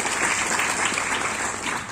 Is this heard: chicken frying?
no